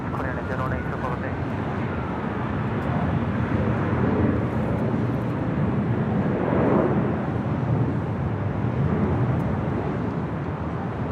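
An aircraft roars steadily and fairly loudly at Los Angeles International Airport, a broad continuous rumble lasting about eleven seconds with faint radio chatter running underneath.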